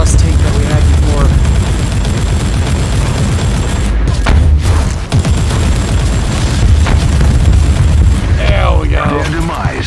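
A grenade blast in the Warhammer 40K Inquisitor Martyr video game booms amid dense, continuous battle noise, with rumbling low bursts and gunfire-like crackle throughout while a voice talks over it.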